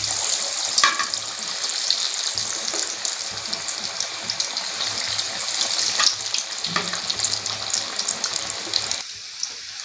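Potato pieces frying in hot oil for egg fries give a loud, continuous sizzle that stays steady throughout, with no voices.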